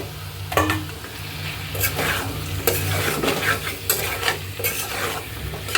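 Papaya being sautéed with fish spices in a pan, with loud repeated scraping and stirring strokes of a spatula over a constant oil sizzle, close and busy.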